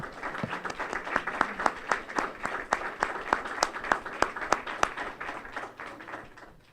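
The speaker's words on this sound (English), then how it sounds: "we should applaud these students sitting to my left" An audience at a 2012 graduation event applauds the students, a mix of scattered crowd clapping with several sharp, distinct claps standing out close by, steady for several seconds and then easing off.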